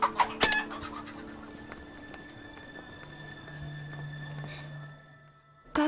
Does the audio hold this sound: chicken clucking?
yes